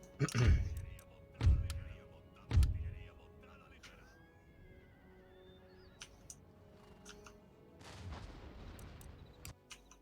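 Cannon artillery fire in the Empire: Total War battle game: three loud, booming shots land in quick succession in the first three seconds, followed by softer scattered battle noise and a faint whistling tone.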